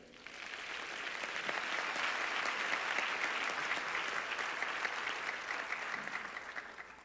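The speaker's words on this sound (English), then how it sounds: "Let's have another round of applause for the choir." A large audience at a university convocation applauds the choir, a dense sustained wash of clapping that swells in over the first second, holds steady for several seconds and tapers slightly at the end.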